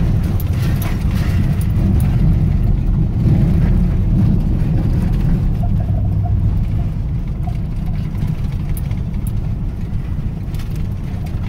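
A Ford F150 pickup driving over a washboard dirt road, a loud, continuous low rumble and rattling vibration from the cab that stays steady throughout.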